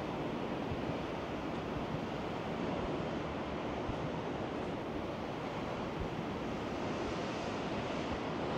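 Ocean surf at La Paz, Puerto de la Cruz, Tenerife, rolls in as waves wash over the top of a seawater pool behind a seafront hotel: a steady, loud, unbroken roar of breaking water with wind buffeting the microphone and no voices.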